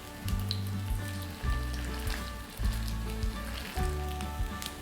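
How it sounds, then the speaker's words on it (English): Root-vegetable and brown-rice veggie burger patties frying in hot oil in a pan, giving a steady soft sizzle that swells in a few repeating surges, with a low recurring hum beneath and no talking. "careful with the hot oil when you're putting the patties in"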